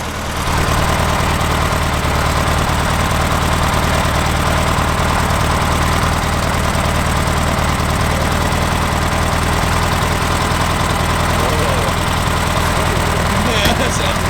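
Turbocharged Volkswagen Beetle engine revving hard under added fuel, a loud steady drone with heavy low rumble and vibration, near and continuous, with people talking over it.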